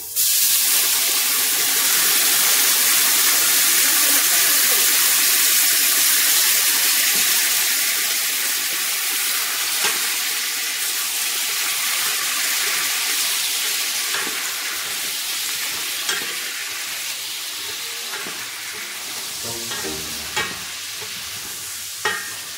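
Wild boar sausage frying in a pan as liquid is added to deglaze: loud, steady sizzling and hissing steam that slowly eases, with light stirring scrapes and a few clinks toward the end.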